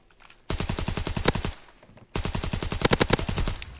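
Video game gunfire from regular guns, two sustained bursts of rapid automatic shots, loud and close, separated by a short pause.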